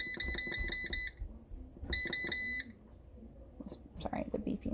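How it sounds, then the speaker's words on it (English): A kitchen appliance beeps repeatedly during water bath canning of peaches, two bursts of rapid high electronic beeps, with a person talking quietly underneath and kitchen clatter afterward. "Sorry, the beeping's annoying."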